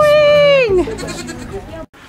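A goat bleats loudly in a barn during a blizzard, one long quavering cry that falls away, followed by quieter rustling and talk.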